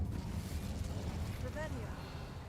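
A roaring, whooshing burst of flame from the Incendio fire spell cast in Hogwarts Legacy runs steadily through the whole stretch, with a brief rising tonal flicker midway.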